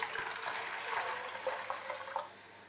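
Warm water around 28 °C poured from a glass into a brine shrimp hatching setup, a soft continuous splashing trickle with faint drips, steady and close, fading out near the end.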